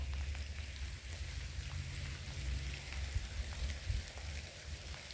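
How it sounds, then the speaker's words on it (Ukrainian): Rain falling on an autumn day outdoors, a soft continuous patter with occasional louder drops over a low rumbling background, faint and steady. "Під дощем осінь."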